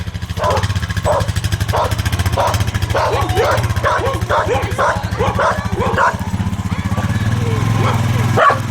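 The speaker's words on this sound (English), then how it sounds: "Goodness, there's dogs everywhere." Dogs barking repeatedly close by, a run of sharp barks that quickens in the middle, over the steady rumbling engine drone of a 2017 Toyota Tundra Limited off-road.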